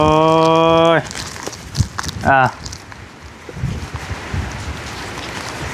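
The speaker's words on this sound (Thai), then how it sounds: "หนูลมกำลังมาเลย" Strong gusty wind from an approaching storm buffets a rural Thai home, a rough broadband roar that surges and fades, with a voice calling out loudly at the start and again briefly.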